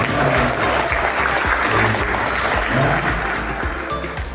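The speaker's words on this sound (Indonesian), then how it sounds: "tepuk tangan dulu dong." Audience applause at an Indonesian PSI party event in Jakarta, a crowd clapping steadily and loudly throughout with a dense, even texture.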